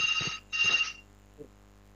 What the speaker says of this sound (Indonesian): Saya terima telepon dulu nih